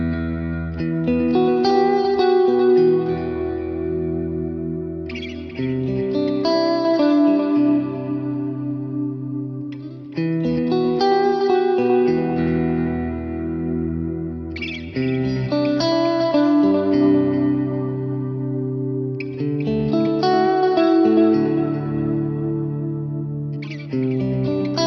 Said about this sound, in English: Now what I've done with this is to create not only a plate reverb but a shimmer reverb in this as well.